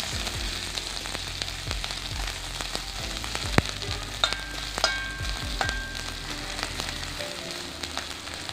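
Crushed ginger sizzles and fries steadily in hot oil in a pan, a continuous crackling hiss broken by a few sharp scrapes and knocks of a spoon stirring it, with no voices.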